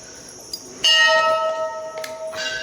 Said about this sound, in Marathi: मला घंटी वाजवायची